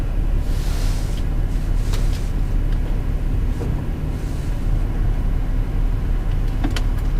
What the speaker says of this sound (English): while the car is running and idling